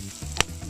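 Garlic, onion and chili frying in a pan during outdoor cooking for kare-kare, a steady soft sizzle with a brief louder crackle near the middle, no talk.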